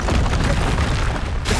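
Repeated fiery Confringo spell blasts in Hogwarts Legacy, a loud, dense stream of booming explosions with crackling bursts filling the whole moment, no pauses between them.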